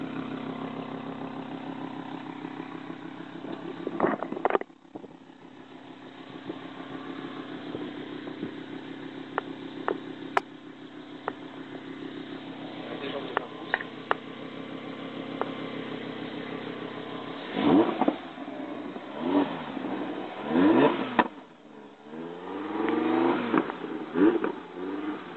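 An Audi R8 V10 Spyder idles with a steady low rumble, then blips its throttle in several sharp revs near the end, heard close and alone.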